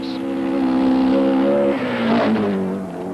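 A Datsun Stanza rally car, Australian-prepared and driven at the 1978 Southern Cross Rally, roars loudly and close, its engine note holding steady, then dipping and rising again as it accelerates on, with no voices.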